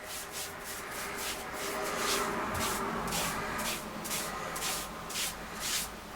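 Spray finish going on a kit guitar in light coats, a series of short hissing bursts in a quick, uneven rhythm, close and fairly soft, with no one talking.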